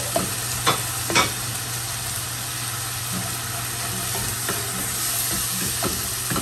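Spices frying in oil for butter chicken give a steady low sizzle, with a few sharp stirring scrapes near the start and now and then throughout, close and clear, with no talking.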